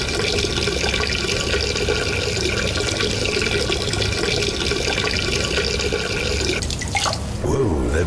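Water splashing and rushing in the Duke Nukem Forever video game, a steady loud wash of water throughout with a brief louder splash near the end.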